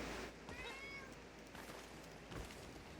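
A cat meows a few times, its drawn-out calls rising over a steady hiss of background noise with no talking.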